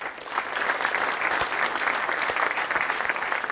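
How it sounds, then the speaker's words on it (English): Audience applause for a keynote speaker at a blockchain legal event at the AFM, steady sustained clapping from a full room lasting several seconds with no break. "Please, a hand of applause for Ronald."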